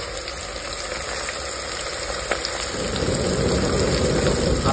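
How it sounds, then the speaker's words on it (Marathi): Sliced onions go into hot oil for a rustic chicken biryani cooked outdoors on a farm. A steady hiss grows louder toward the end against a constant background hum, with no talking. "आता मी कांदा टाकून घेतलाय तेलात."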